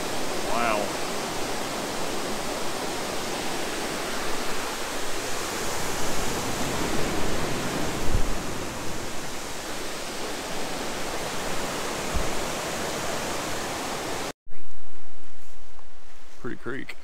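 An Ozark creek waterfall rushes with a dense, steady roar close by, broad and unbroken for most of the stretch before cutting abruptly to a quieter outdoor scene near the end.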